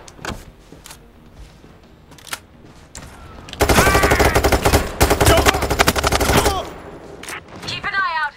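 Enemy gunfire in a PayDay 3 heist: scattered single shots give way to a loud, sustained burst of rapid automatic fire for about three seconds, then tapering shots with a voice briefly heard.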